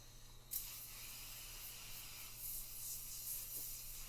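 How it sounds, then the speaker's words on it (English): Glass cleaner sprayed from a bottle across a plexiglass-covered pinball playfield, a soft steady hiss that starts abruptly with a faint trigger click and continues for several seconds, fairly close and alone. "Give it a nice dusting of spray away"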